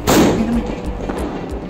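A Diwali firecracker bursts close by with one loud sharp bang that decays into a rumble, followed by a few faint crackles.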